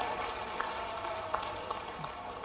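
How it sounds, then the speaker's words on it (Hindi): Audience applause welcoming Union minister JP Nadda at a medical college foundation-stone ceremony in Betul, a steady dense wash of many hands clapping from a large crowd, with a few sharper claps standing out. "दोनों हाथ ऊपर के जोरदार ताली बजा के अभिनंदन"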